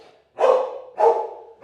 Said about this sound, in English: He's barking at Pan